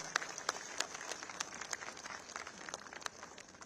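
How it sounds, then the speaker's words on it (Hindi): Audience applauding to welcome a guest at a public event near Rajghat organised by Gandhi Smriti, a dense steady wash of clapping with sharper individual claps standing out, moderately loud and without speech. "जोरदार ताली बजा के स्वागत करें"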